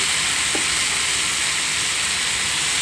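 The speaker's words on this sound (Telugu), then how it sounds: "వేగిపోయివండి ఉల్లిపాయలు బఠానీ అయితే వేసుకుందాం" Peas tossed into onions in a hot pan for batani fry make a dense, continuous frying sizzle, even and loud throughout with no talking.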